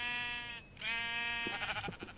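A Minecraft sheep bleats twice in quick succession, clear wavering cries at moderate distance, followed by a few soft thumps of game activity.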